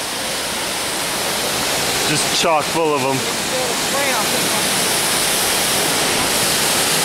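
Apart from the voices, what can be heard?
waterfall in the Columbia Gorge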